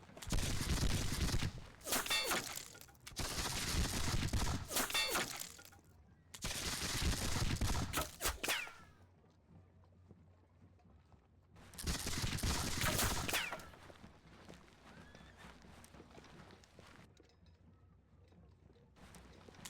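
Repeated musket volleys in a Seven Years War battle game, four loud bursts of massed gunfire each lasting about two seconds, separated by quieter gaps with faint background rumble.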